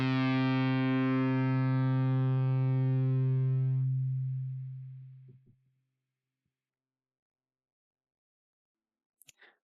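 A Lunaris 2 synth guitar pad patch with the attack raised sounds one rich, buzzy sustained chord that slowly fades out over about five seconds, leaving near silence broken by a couple of faint clicks.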